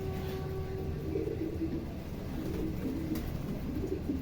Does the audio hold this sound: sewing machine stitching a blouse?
no